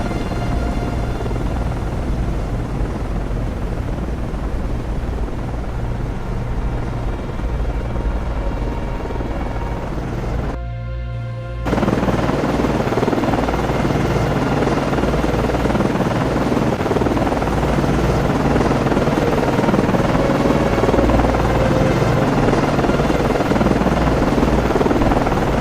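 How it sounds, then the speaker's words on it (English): A helicopter landing on a ship in the Cold Waters naval video game makes a continuous loud rotor drone and engine whine, steady throughout apart from one brief dip partway through. "aircraft landing"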